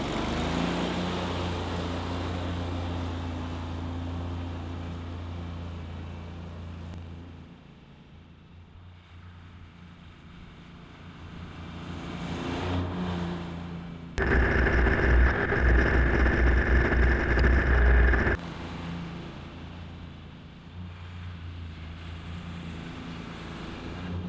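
An EFI lawn mower engine runs while cutting tall growth, a continuous motor drone that dips and rises in load, with a sudden louder, harsher stretch midway before settling back to a steady hum.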